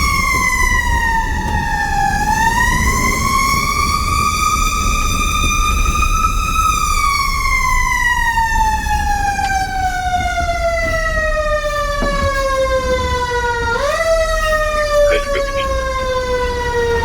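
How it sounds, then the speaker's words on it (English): A loud, continuous wailing fire engine siren rises and falls slowly, steady and close, with engine rumble beneath. "Siren."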